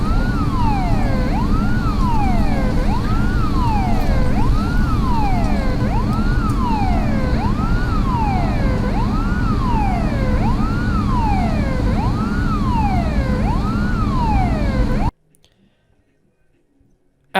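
A loud wailing ambulance siren rises and falls steadily in a repeating cycle, close and continuous for about fifteen seconds, then cuts off abruptly into near silence.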